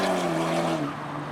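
A Nissan S13 accelerating at a Japanese car meet: a loud, near engine note rising steadily in pitch, then easing slightly as it moves off.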